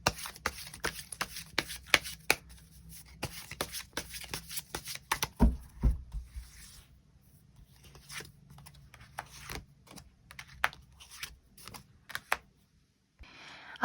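Tarot cards are shuffled by hand in quick riffling flicks and soft slaps, close and fairly quiet, with a brief pause midway before shuffling resumes in sparser snaps.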